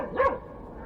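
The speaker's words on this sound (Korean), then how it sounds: "후크는 크고 다급한 소리로 3번 짖었다" A sled dog gives a single short, urgent bark in a snowstorm, a brief sharp yelp that quickly fades into a low background hush.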